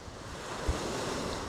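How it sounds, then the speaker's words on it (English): Wind-driven waves wash onto a lakeside beach in a steady low roar, with heavy wind buffeting the microphone throughout and one brief thump partway through. "You can probably hear the waves crashing."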